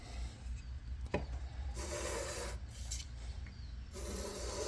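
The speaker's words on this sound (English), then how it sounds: "First up, I've got some 400 grit sandpaper. I'm going to dampen that up." Wet 400-grit sandpaper rubbed by hand over a surface, giving a soft continuous rasping hiss in close back-and-forth strokes with brief pauses, quiet and without talking.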